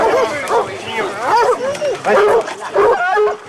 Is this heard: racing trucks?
no